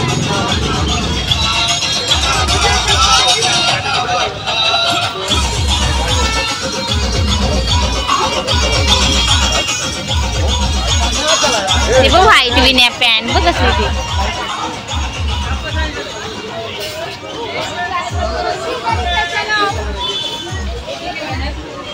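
Dense crowd chatter fills the Ratnagiri Saturday market fair, a steady hubbub of many overlapping voices at close range, with nearby people talking over the din throughout.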